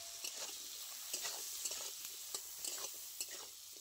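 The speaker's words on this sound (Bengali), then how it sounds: "খুব ভালো করে নাড়াচাড়া করে তেলের মধ্যে গাজরটা আমি সেদ্ধ করে নেব।" Carrots cooking in oil with salt and a little turmeric, a faint steady sizzle with light, irregular stirring taps and scrapes against the pan.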